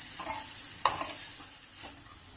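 Sugar and grated coconut fry slowly over low heat for coconut laddu, making a faint, soft sizzle with a few scraping stirs of a spoon against the pan.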